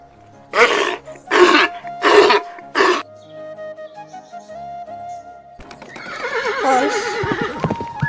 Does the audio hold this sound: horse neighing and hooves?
yes